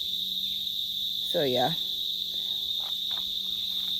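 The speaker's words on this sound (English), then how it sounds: "I think they're crickets." Crickets chirp outdoors during a nature jog, a steady continuous high-pitched trill running through the whole stretch, with a brief bit of speech in the middle.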